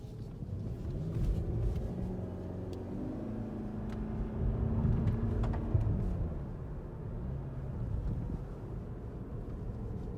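A 2019 Lexus ES 300h hybrid sedan climbs a twisty uphill road, its cabin filled with a steady low rumble of road and wind noise that swells and eases slightly, with no voices.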